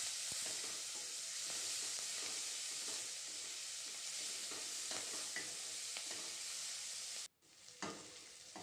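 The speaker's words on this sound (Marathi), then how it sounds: "त्यानंतर कांदा, मिरची, कांदा छान परतून घेऊ" Chopped onion and green chillies sautéing in a pan: a continuous sizzle with scraping stir strokes, briefly cut off near the end before the frying resumes.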